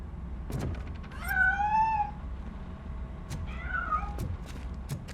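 Cat meowing in the video game RoboCop: Rogue City: two drawn-out, rising-then-falling meows, the first louder and longer, over a low steady game ambience with a couple of brief clicks.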